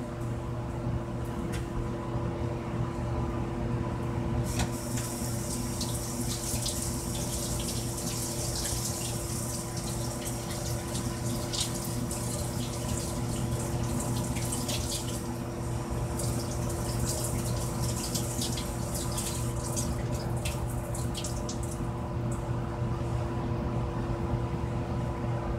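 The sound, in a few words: water running in sink, rinsing out a strainer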